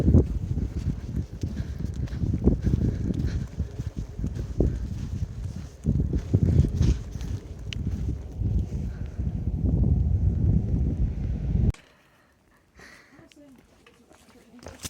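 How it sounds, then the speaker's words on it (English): Strong, loud gusting wind buffets the microphone on an exposed mountain top along the Appalachian Trail, roaring in uneven bursts for most of the time before dropping abruptly to near quiet near the end. "This would be a really cool place to camp if it wasn't super windy."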